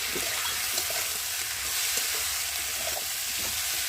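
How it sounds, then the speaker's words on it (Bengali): Turmeric powder with ground cumin and ginger paste sizzles and fries in a pan, a steady crackling hiss with occasional stirring scrapes, close and continuous with no talking. "আর দেবো হলুদ গুঁড়ো, আর দেবো বাটা মশলা, জিরে বাটা আর আদা বাটা দিয়ে ভালো করে কষিয়ে নেব"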